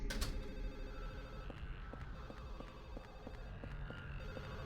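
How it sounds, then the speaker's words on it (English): Telephone ringing inside the apartment in the horror video game Silent Hill: The Room, a repeating electronic ring pulsing at a steady rhythm over a low droning hum, moderately loud and without talk. "the sound of that phone ringing is going to drive me insane"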